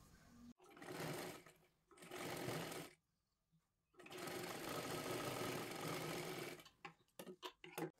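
An electric sewing machine runs in several close, loud bursts of stitching along a seam on a size 37 katori blouse, with longer runs early on and short stop-start spurts at the end.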